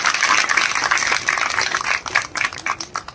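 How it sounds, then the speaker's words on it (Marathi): Lecture audience applauding at a Dr. Babasaheb Ambedkar Jayanti talk, dense loud clapping that thins into scattered separate claps toward the end. "टाळ्या वाजल्या पाहिजे."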